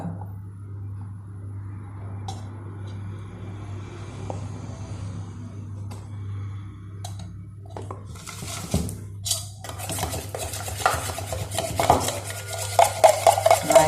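A utensil stirs egg rice in a pan, starting quietly over a steady low hum, then building into frequent scraping and clinking strokes that grow louder toward the end.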